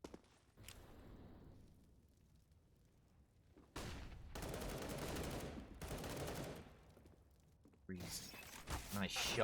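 Gunfire from a Counter-Strike match on the Mirage map in an ESEA MDL Europe game: rapid bursts of shots come in two loud clusters and then a third, mixed with commentary.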